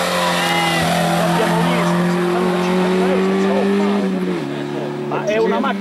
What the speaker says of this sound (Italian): È una macchina di gare